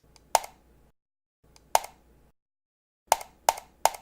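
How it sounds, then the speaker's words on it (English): Computer mouse button clicks, sharp dry taps in two sparse singles and then three quick ones, close and quiet with silence between. "That sound was the sound of somebody clicking a mouse button,"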